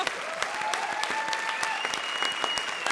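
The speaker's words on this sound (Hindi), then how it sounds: "संजीव शर्मा जी के लिए जोरदार ताली बजाइए।" Hearty audience applause at a comedy show, many hands clapping in a brisk, sustained patter with a faint tonal whine running underneath and no speech.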